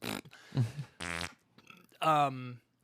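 A string of short, blurting fart-like noises, loud and close, in several uneven bursts that sound voiced, as if a person is imitating flatulence with their mouth.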